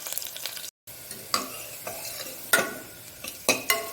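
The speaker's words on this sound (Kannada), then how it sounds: "ಇದು ಒಳ್ಳೆ ಸ್ವಲ್ಪ ಫ್ರೈ ಆಗಬೇಕು, ಚೆನ್ನಾಗಿ ಬ್ರೌನ್ ಕಲರ್ ಆಗಬೇಕು ನಮ್ಮ ಆನಿಯನ್." Onions and curry leaves frying in a pan for sardine gravy, with repeated scraping stirs cutting through a steady close sizzle; a brief silent gap early on, no voices.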